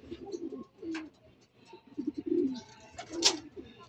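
Racing pigeons at the coop give soft, close coos in short bursts, with chirps and faint rustling between calls and no talk.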